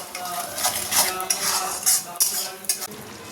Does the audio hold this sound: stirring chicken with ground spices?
yes